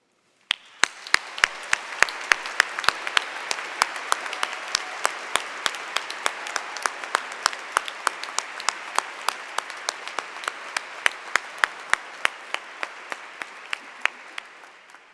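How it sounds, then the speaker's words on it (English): An audience rises and applauds educators at a school commencement ceremony, sustained hall-filling clapping that starts abruptly and holds steady, with individual sharp claps standing out. "I invite you to rise so that we may applaud your extraordinary talent as educators"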